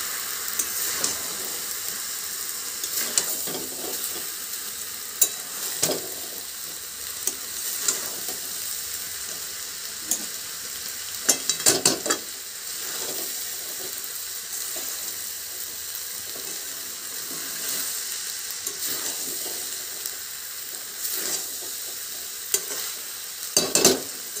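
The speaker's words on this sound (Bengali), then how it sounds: "আর দেবো একটুখানি আমি সয়া সস এটা দিয়ে আমি দেখে ভালো করে একটু নেড়ে চেড়ে নেবো" Tomato chicken rice being stirred with soy sauce in a pan, a steady soft sizzle with scraping spoon strokes and occasional louder clatters against the pan, continuous and close, with no talking.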